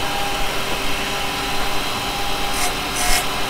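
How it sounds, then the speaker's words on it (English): Spindle gouge cutting a slight taper into spinning wood on a lathe, a steady close rasping scrape with a constant motor hum and two brief brighter hiss bursts near the end. "now I'm going to go over to spindle gouge"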